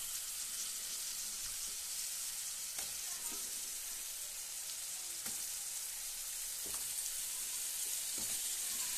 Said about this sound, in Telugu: ఇప్పుడు మనం ముందుగా కట్ చేసి పెట్టుకున్న పీతల్ని యాడ్ చేసుకుందాం